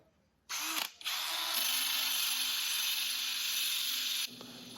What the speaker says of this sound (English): So I use this 3M abrasive wheel. It's a polycarbonate wheel.